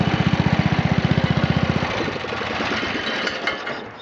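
A lawn vehicle's engine thumps in a rapid, even pulse, then roughens into a louder, ragged roar as its tires spin. It is close and loud throughout, with no voices.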